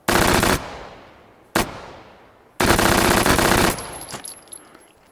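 An MP5 in the VR game Hot Dogs, Horseshoes and Hand Grenades fires loud, close bursts: a long rapid string of shots, a single short shot, then another sustained full-auto burst, each followed by a decaying echo and faint mechanical clicks.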